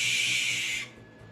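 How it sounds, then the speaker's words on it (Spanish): A barn owl gives a harsh, hissing screech that holds loud and steady for most of the moment, then cuts off abruptly, leaving faint background noise. "Lechuza blanca."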